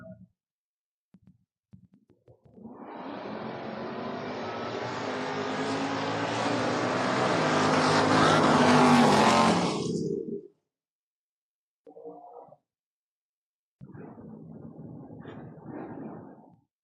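Drag racing Mustang and Camaro launching side by side at a door-wars meet, a sudden loud engine roar that swells for about eight seconds and then drops away, followed by a few short distant bursts.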